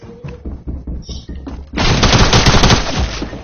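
Rapid gunfire from a sniper battle in a video game, starting sparse and then bursting into a loud, dense barrage that runs to the end.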